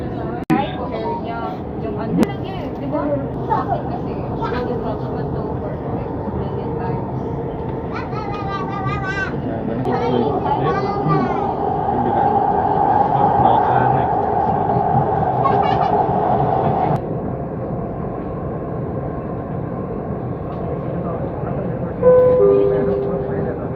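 A Dubai metro train runs along its elevated line with a steady rumble and rail hum that swells in the middle, mixed with tonal whines and cabin chatter from passengers talking nearby.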